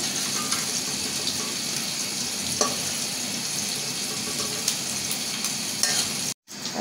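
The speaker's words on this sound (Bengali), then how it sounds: "পেঁয়াজ দিয়ে দিলাম এই তেলে।" Onions hit hot oil in a pan while cooking a Bengali dried-fish dish, giving a steady close sizzle with occasional clinks and stirring scrapes, then a brief gap near the end.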